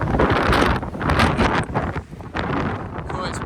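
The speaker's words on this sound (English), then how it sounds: "it's blowing me about up here now, guys. Really windy." Strong wind buffets the microphone at a hilltop viewpoint, a loud continuous rushing roar that gusts and briefly drops around the middle before surging again.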